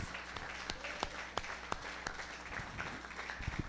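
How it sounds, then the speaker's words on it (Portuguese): Congregation clapping in unison during a church service, steady rhythmic applause filling the room at moderate distance, continuing throughout. "Uma salva de palmas ao Rei dos Reis, Jesus."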